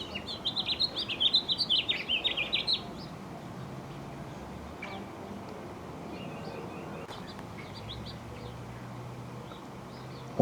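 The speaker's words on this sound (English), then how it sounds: "Looks like the finch is watching me." A finch chirps in a New Mexico backyard, a quick burst of high bright tweets in the first few seconds, then quieter scattered calls over low outdoor noise.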